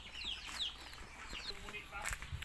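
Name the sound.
native chickens clucking on a farm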